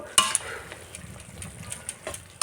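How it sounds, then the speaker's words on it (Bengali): Lafa shak leafy greens cook in a pan while a spatula stirs them, giving sharp metallic scrapes and clinks over a faint, steady sizzle. "কিছু সময় একটু জাল করে নিলাম এবার নামিয়ে নিব"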